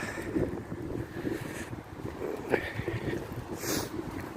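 Strong wind gusts outdoors on a stormy January day near Poitiers, a continuous buffeting roar on the microphone with brief louder bursts, close and fairly loud, with no talking.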